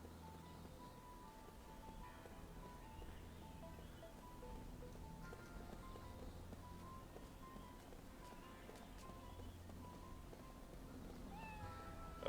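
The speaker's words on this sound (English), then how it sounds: "Oh look, there's a cat. There's a cat." A cat in the video game Lost Odyssey meows faintly a few times, low in level beneath continuous game music and ambient background sound.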